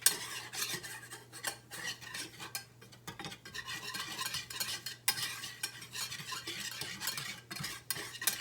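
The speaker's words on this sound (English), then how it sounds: "We're going to whisk that in. Cook off any of that raw flour taste." A whisk scrapes and taps through a flour mixture in a pan on the stove, quick irregular metallic strokes close by over a low steady hum, with no voices.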